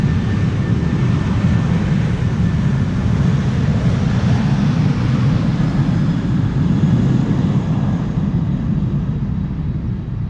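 A Delta Airbus A330 lines up on the runway at Amsterdam Schiphol Airport, its jet engines giving a steady, loud, broadband roar that holds evenly throughout without pause.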